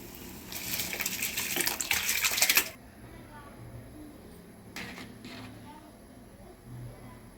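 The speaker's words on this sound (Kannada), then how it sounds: "ಇದಕ್ಕೆ ನಾವು ಅರ್ಧ ಗಂಟೆ ನೆನೆಸಿಟ್ಟಿರ್ತಕ್ಕಂಥ ಒಂದು ಬಾಸುಮತಿ ರೈಸನ್ನು ಹಾಕೊಳ್ಳೋಣ." Soaked basmati rice tips into boiling water for chicken dum biryani, a loud wet rushing splash for about two seconds that cuts off, then a quiet simmer with small clinks.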